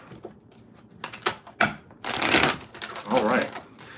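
Tarot cards are shuffled in a few quick riffling bursts, close and crisp, between soft taps and handling noises, with a voice speaking briefly.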